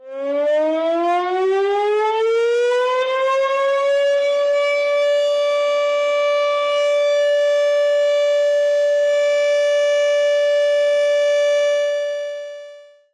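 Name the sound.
civil defense war siren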